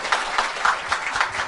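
A seated crowd applauds briefly at a Korean media cooperative's annual general meeting: a soft, steady wash of many hands clapping in a hall, moderately distant, with no speech over it.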